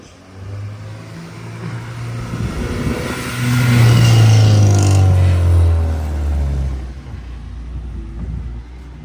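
A Honda Integra with a K20 engine roars as it drives, the deep exhaust rumble swelling to a loud peak midway and then easing off, heard from close by with no talk.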